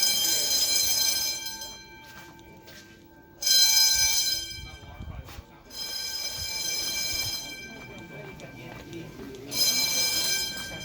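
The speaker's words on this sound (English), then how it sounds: "We got a fire alarm going off." A false fire alarm sounds at a flea market. It gives a steady, piercing electronic tone that swells and fades in bursts while people talk over it nearby.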